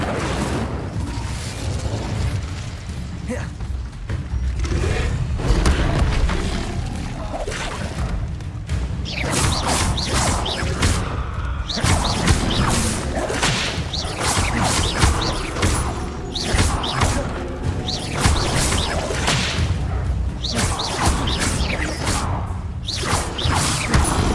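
Fire spell Incendio cast again and again in the video game Hogwarts Legacy, with loud whooshing bursts and booming impacts repeating over a dense wash of combat effects and music.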